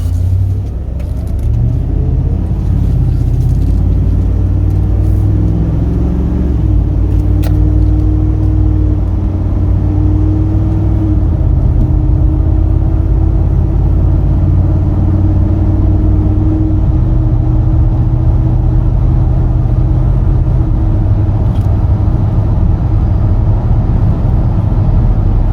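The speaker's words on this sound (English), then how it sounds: "Take it for the test drive." A 2018 Ford F-350 XL regular cab pickup with a utility bed cruises on a road test, its engine and road rumble holding steady and loud throughout, with a brief rise in engine note early on.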